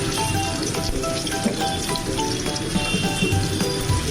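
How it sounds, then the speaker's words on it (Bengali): Tofu sizzles in a hot pan in two batches, a continuous crackling fry with scattered pops, close and moderately loud with no voices. "আমি দুটো ব্যাচে সমস্ত টোফুগুলো ভেজে নেব।"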